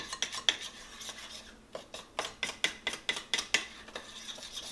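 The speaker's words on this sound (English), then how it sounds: "mixing it by hand instead of mixing it with a mixer" Cane syrup cookie dough is mixed by hand in a bowl, with quick, rhythmic scraping and tapping strokes in a steady run, briefly pausing before resuming, close and moderately quiet with no talking.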